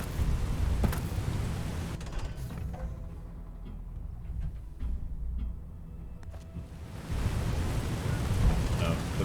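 Heavy rain in the game Fallout: New Vegas, a loud broadband hiss with low rumbling that dips partway through and then surges back at full strength, with no voices over it.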